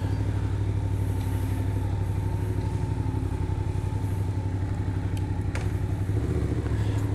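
An old Honda motorcycle rumbles steadily nearby with a continuous low engine drone and faint mechanical clatter, heard alone without talk.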